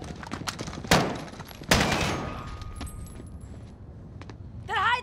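Gunfire in Call of Duty: Modern Warfare: two loud, sharp shots ring out with echoing tails over a quieter field of distant pops and clicks, with a brief voice near the end.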